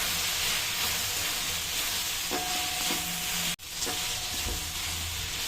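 Turmeric and red chili sizzle in a pan as masala is stirred, a steady close hiss with soft scraping strokes and a brief break partway through.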